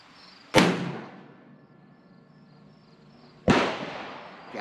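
A Mosin Nagant rifle fitted with an Archangel stock fires two loud, sharp shots a few seconds apart outdoors, each a sudden blast that rings out and decays slowly into quiet.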